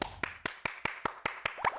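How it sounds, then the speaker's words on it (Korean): About nine sharp, evenly spaced claps ring out alone at a quick, steady pace, with a small voice sound slipping in near the end. "갑자기 박수를?"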